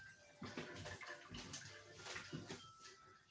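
Warm water runs from a tap in a home kitchen while cheese dinner rolls are being made, a steady, close, broadband rush that continues through the whole stretch with small splashing fluctuations.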